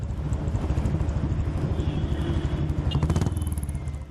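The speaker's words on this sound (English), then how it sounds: "More than 100 Harleys kick-started their ride from MG Road to Bannerghatta" More than a hundred Harley-Davidson motorcycles ride in a street rally from MG Road to Bannerghatta, with Bullets among them. Engines rumble and throb close by in a steady stream, with wind buffeting the microphone.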